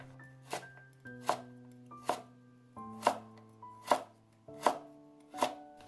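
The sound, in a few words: knife chopping a carrot into strips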